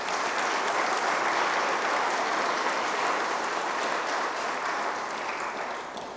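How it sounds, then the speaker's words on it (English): Lecture-hall audience breaks into sustained applause, a dense, even roar of many hands clapping that holds steady and only eases slightly at the end. "Let's have a round of applause for all these folks."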